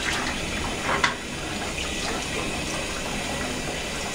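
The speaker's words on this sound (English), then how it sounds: "Just gonna add some water to my facial hair" Tap water runs in a steady, fairly close stream while wetting facial hair before lathering a bay rum shaving soap, with a couple of brief splashes early on and no voices.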